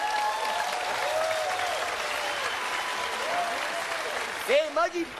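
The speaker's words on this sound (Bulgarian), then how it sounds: "Аплодисменти!" Studio audience applause on a comedy impersonation show, continuous and full, with music and tonal voices over it, and a sung or shouted voice near the end.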